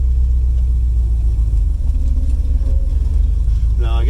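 A 1965 Ford Thunderbird parts car, only its front brakes working, rumbles along the road with a loud, steady low engine drone and no break in the sound.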